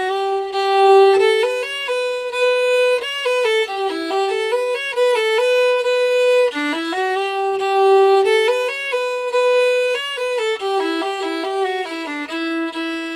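Fiddle tune played mostly with slurred bows, a continuous smooth flowing melody with notes running together and little rhythmic articulation, solo and close with no talking.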